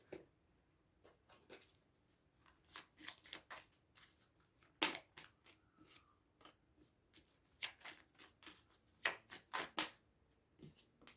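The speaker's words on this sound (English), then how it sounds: "So I'm gonna pull some more cards." Tarot cards drawn from a deck for a reading: a quiet series of crisp papery slaps, flicks and shuffling rustles in irregular bursts, close up and faint, with no talking.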